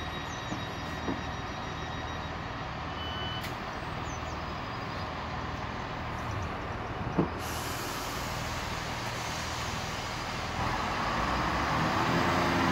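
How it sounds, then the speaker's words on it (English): A train, number 158844, rolls past heading toward Middlesbrough town centre, a long steady rumble and hiss with a sharp air-brake-like release midway, swelling louder toward the end. "And that was a train."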